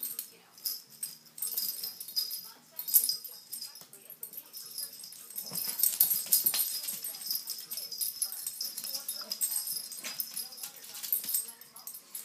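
Two dogs play together, one a six-month-old puppy, with soft whimpers and scuffling bursts over about twelve seconds, joined by a person talking intermittently.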